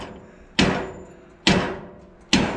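A hammer strikes metal while a Bizon Rekord Z058 combine header is dismantled: three loud, close, ringing blows spaced about a second apart, each decaying slowly.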